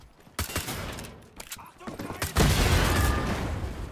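Gunfire in the Wolfenstein: The Old Blood video game: several sharp shots early on, then a loud, dense burst of shooting that carries on to the end, with voices mixed in.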